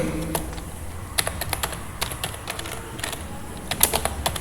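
Quick, uneven keystrokes clatter on a computer keyboard up close, with short bursts and pauses and a final firmer tap, while no one speaks.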